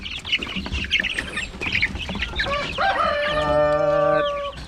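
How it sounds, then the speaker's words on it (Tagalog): Several Rhode Island Red chickens cluck and squawk busily up close while fed cabbage, ending in a loud, sustained rooster crow. "matakaw itong mga manok na to"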